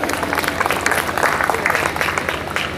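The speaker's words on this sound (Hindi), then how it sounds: "इनके लिए एक जोरदार तालियां बजा दी" Outdoor evening poetry gathering crowd clapping heartily on a cold night, a steady, loud, dense patter of many hands throughout.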